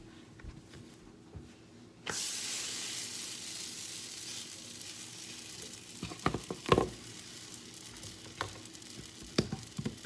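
Flour tortillas cook in a hot pan greased with lard. A steady, close sizzling hiss starts suddenly and keeps going, with a few sharp pops and crackles near the end.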